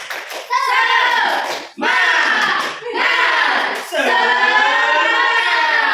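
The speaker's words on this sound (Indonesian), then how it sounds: "Kita tepuk semangat dulu ya." A classroom of young children performs a loud, close rhythmic spirit clap, with bursts of patterned clapping mixed with group shouts and chanting in several phrases.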